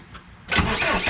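Deutz BF4M2012 diesel engine in a Volvo loader cranking over after a half-second of quiet, a loud, close, steady churning that continues without catching.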